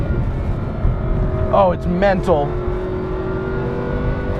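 A supercharged Lamborghini Huracan engine climbs through revs under acceleration in a couple of rising surges, loud and close over steady road rumble, with someone talking over it.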